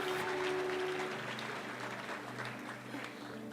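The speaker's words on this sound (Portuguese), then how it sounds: "Vamos dar uma salva de palmas ao pastor Daniel." A church audience applauds for pastor Daniel, a soft, steady patter of many hands clapping at a distance, faint throughout.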